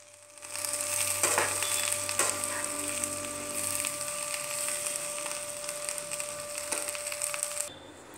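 Capsicum and besan being stirred in a pan, a steady scraping, crackling stir with soft sizzling from the mixture, close and moderately loud throughout, without speech.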